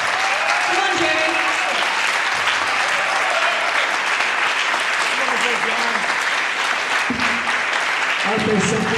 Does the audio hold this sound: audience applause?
yes